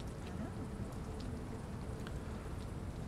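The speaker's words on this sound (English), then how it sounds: "Is it still raining? Oh no, it's still raining." Steady rain falls in the survival game Mr Prepper, a dense, even hiss of drops that stays constant throughout with no other sounds.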